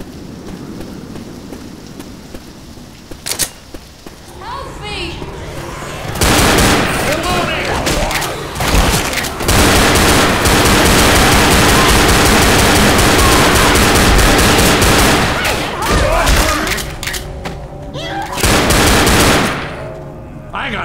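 Video game gunfire rattles loudly in dense automatic bursts and rapid single shots, nearly continuous through the middle before easing, with a voice faintly underneath.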